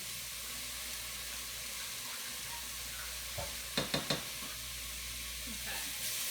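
Tomato paste is stirred into vegetables sizzling in a pan, a soft steady fry with a few quick scraping stirs near the middle.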